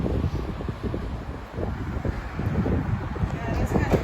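Gusty wind buffets a microphone outdoors near a shrine and a main road, making a steady low rumble with irregular bursts throughout.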